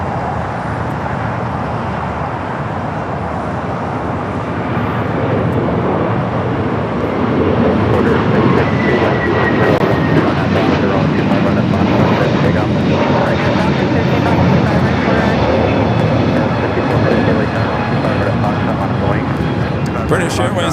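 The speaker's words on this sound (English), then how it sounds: "Flight 247 coming in from Lisbon, a 8-year-old A330neo is your next heavy arrival there on the north side." A heavy Airbus A330neo jet, eight years old, lands on the north side at LAX after a flight from Lisbon, its engines producing a loud, steady roar that swells and lingers for the whole stretch while someone talks over it.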